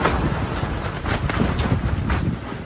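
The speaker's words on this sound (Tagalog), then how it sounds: "Hanggang ngayon, malakas pa yung hangin." Strong wind in the aftermath of Typhoon Uwan roars and buffets a nearby microphone in a constant, rough rush of noise with no pauses.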